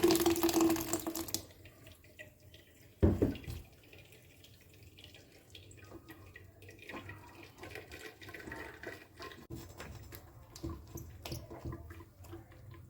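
Homemade pomegranate juice is poured through a plastic strainer, opening with a brief rush of liquid, then a single sharp knock and a long, soft trickle and drip. No one speaks.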